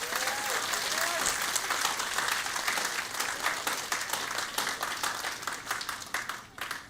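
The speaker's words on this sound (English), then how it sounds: "Give them another big round of applause." Guests at a Vedic wedding ceremony give the newly married couple a big round of applause. Dense, sustained clapping from a crowd thins out toward the end, and a faint voice can be heard at the start.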